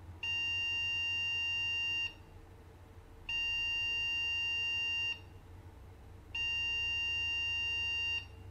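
A computer motherboard running a power-on test with no RAM installed gives three long, identical high-pitched beeps, about two seconds each with short gaps, over a faint fan hum.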